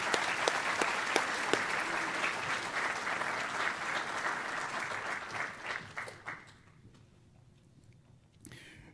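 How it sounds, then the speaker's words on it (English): Applause at a military swearing-in ceremony for new chief warrant officers, a room full of steady clapping that carries for several seconds before thinning out and fading to a quiet hall, with a stray clap near the end. "Let's give them a round of applause."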